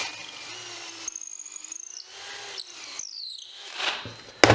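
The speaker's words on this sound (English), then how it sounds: "And then just drill the hole." A power drill whines into wood in two bursts with a pause between them while boring a pocket hole for a face frame, close and steady, followed by a short clatter at the end.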